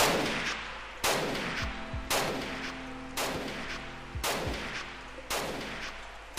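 Loud, powerful rifle gunshots in the video game RimWorld fire at a steady pace, about one per second, each followed by a booming echo and metallic clatter.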